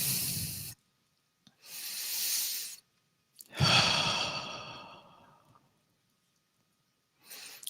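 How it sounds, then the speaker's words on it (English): Slow, deep breaths during a guided meditation practice: a long inhale, a pause, then a fuller exhale that fades out over about two seconds, with another breath starting at the end; close and quiet, with no talking. "Take another deep breath."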